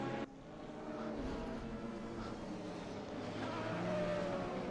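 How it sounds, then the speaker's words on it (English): The V6 engine of an AER Radical race car in GTR2 drones at a lower pitch, a steady, moderately loud note that climbs slightly as it holds, with no talk over it. "You have a little bit of a lower note coming out of that car because it is running that V6."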